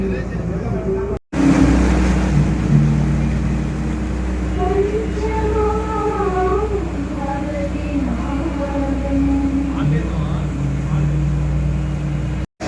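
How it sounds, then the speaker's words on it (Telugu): A tourist boat on the Godavari river runs with a steady low engine drone throughout, while people talk nearby over the hum. "ఇప్పుడే బోటు మళ్ళీ వెనకలకి వచ్చింది, మా కోసం వచ్చి తీసుకుంది."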